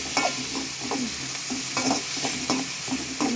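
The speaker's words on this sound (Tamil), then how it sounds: "தக்காளி பழம் நல்லா வதங்குது" Tomatoes sautéing in a pan for kothu parotta, a loud close sizzle broken by rhythmic scraping strokes of a spatula being stirred through the pan.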